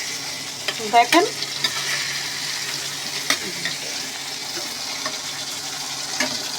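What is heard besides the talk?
eggplants and tomatoes frying in a pan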